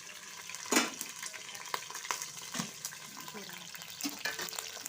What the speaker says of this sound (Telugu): ఆనియన్ పచ్చిమిర్చి ఇట్లా గోలించుకోవాలండి